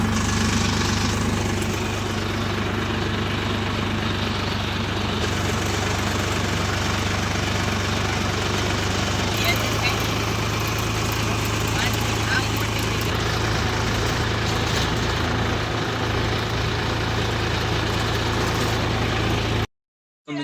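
A tractor engine idles with a continuous low, steady hum and rumble, close by, lasting nearly the whole stretch before cutting off abruptly at the end, with faint voices under the engine noise.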